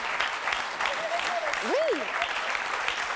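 Audience applause filling the room as a crowd claps for the husbands on a French talk show, a steady dense patter with a voice speaking briefly over it.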